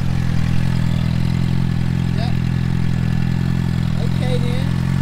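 A dirt bike engine idles with a steady low rumble throughout, loud and close, with faint voices in the background.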